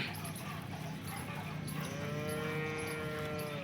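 A single local Banaskantha cow at a dairy sale gives one long, drawn-out, low moo that rises partway through. The call sounds faint and somewhat distant over steady background noise.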